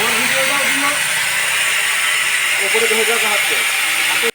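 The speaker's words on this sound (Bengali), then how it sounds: "আমি যেমনভাবে স্পকেটটা শান দিচ্ছি" A worn bike chain sprocket being sharpened gives a loud, continuous hissing grind with a mechanical whirr and a few tonal squeals, running steadily before stopping abruptly at the end.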